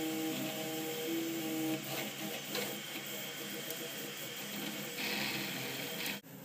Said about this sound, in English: It takes about 2 hours to print one of these on the printer.